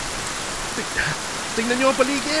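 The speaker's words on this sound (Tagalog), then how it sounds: "Napakalakas ng ulan!" Heavy rain pours steadily in a dubbed movie scene, a dense hiss of falling water running through the whole moment while people talk over it.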